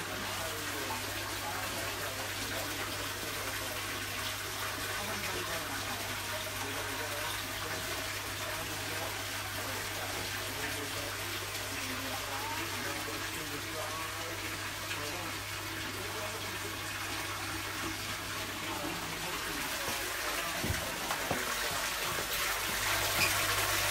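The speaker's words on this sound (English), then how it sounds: "I'm adding cold water because it's fresh water." Cold fresh tap water runs steadily into a very dirty home fish tank during a water change, a constant gushing hiss at moderate level with a faint low hum underneath.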